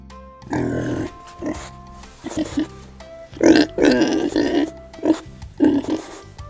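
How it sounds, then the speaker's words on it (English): A pig in a barn grunts and oinks in a run of short, rough, close bursts, separated by brief pauses over faint background music. "Pig"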